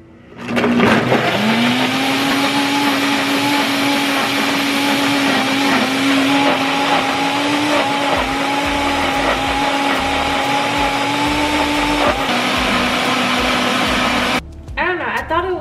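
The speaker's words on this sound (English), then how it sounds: "I never tried to see if the blender turns off by itself, but it was blending for a long time." A countertop blender running loud and steady for about fourteen seconds, blending a smoothie of banana, blueberry, frozen mango, cranberry juice, lemon ginger, honey, ice and sugar, with a whining motor pitch that holds until it stops abruptly near the end.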